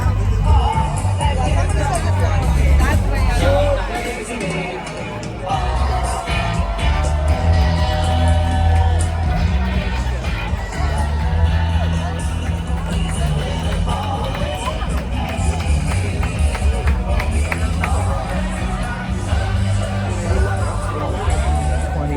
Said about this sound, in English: Just the crowd.